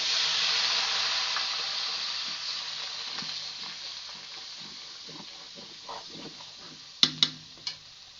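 Chicken pieces fry in hot oil with cinnamon and onion paste added, a loud sizzling hiss that fades gradually, then a few sharp clinks and stirring taps near the end.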